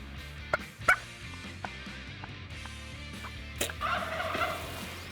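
A wild turkey in British Columbia gobbles during a hunt, two sharp gobbles early and another rolling gobble later, fairly distant over quiet outdoor ambience.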